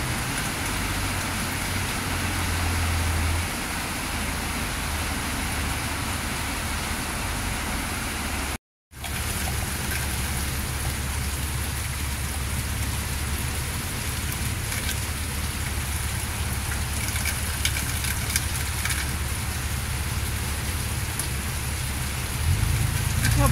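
Steady rain falling, a continuous broadband hiss with soft patter on surfaces, fairly constant throughout with one brief cut to silence.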